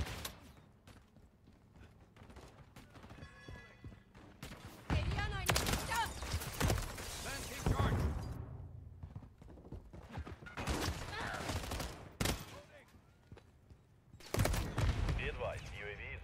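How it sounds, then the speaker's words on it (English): Bursts of turret machine-gun fire in a video game, rapid crackling volleys in several loud clusters, with a voice talking over parts of it. "They got a goddamn turret again."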